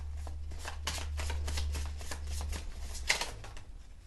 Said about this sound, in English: let's shuffle this deck